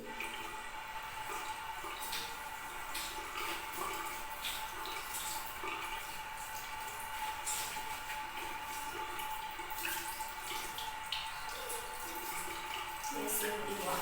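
A tap runs steadily at a sink as hands are washed before a sterile procedure, a constant soft splashing hiss with faint clinks in the background and no clear talk.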